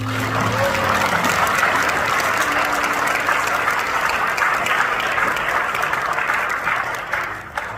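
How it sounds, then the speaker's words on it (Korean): A church congregation at a united Korean prayer rally applauds to welcome a pastor. Sustained, dense clapping runs for several seconds, with brief speech at the start, before fading slightly at the end. "박수로 모시겠습니다"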